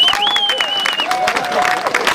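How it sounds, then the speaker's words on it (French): An outdoor crowd at a metal-detecting rally gives a burst of applause, dense continuous clapping mixed with a loud whistle and voices, close and sustained. "je vous demande de faire un tonnerre d'applaudissements"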